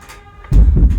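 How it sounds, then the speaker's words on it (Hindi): A door is pushed shut with a heavy, booming low thud partway through, which rumbles on briefly after a quiet lead-in, with no voices. "दरवाजा बंद कर दे।"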